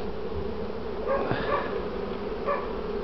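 Honey bees from a young colony buzz at an opened hive in Poland, a soft, steady droning hum with a few brief louder swells and no speech.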